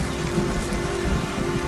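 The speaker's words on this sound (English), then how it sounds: "It's starting to rain." Steady rain falls in an even, close wash with no voices, a soft low rumble running underneath throughout.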